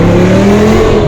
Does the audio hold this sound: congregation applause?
no